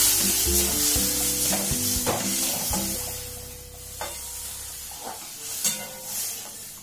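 Water poured into a pan of frying potatoes, pointed gourd and jackfruit seeds for a Mithila-style curry sets off a loud, steady sizzle with sharp spits. Soft tonal music runs underneath.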